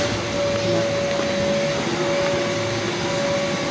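A wheeled vacuum cleaner runs steadily with a constant loud whine and a high tonal hum, no pauses.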